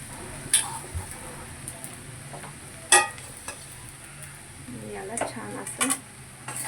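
A spoon stirs sabudana khichdi with fried potato in a pan, giving scattered scraping clinks and taps against the metal, fairly quiet over a faint sizzle.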